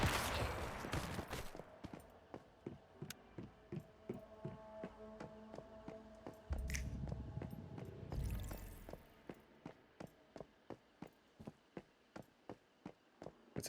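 Video game weapon fire: steady single shots crack out at a regular pace, each a sharp distinct report, with a brief rumbling pause partway through and faint background ambience.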